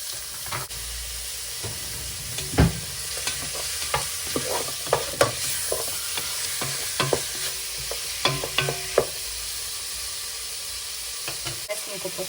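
Meat frying for a Szeged goulash, steady sizzle with scraping stirs and clicks of a utensil against the pan, fairly close.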